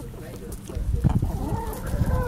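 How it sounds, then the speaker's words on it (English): Chickens being fed cluck and chatter close by in a steady, busy stream of short calls with rustling around them, and no talking. "just feeding some chickens right now"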